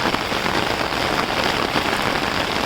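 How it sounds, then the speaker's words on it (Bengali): A downpour drums down near a rail track and a village pond under thick cloud, a loud unbroken wash of raindrops striking the ground, steady from start to finish. "খালি বৃষ্টির শব্দ শোনা যাচ্ছে"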